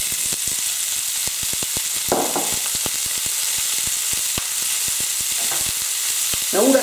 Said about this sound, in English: Then I'm going to go straight in with the onions.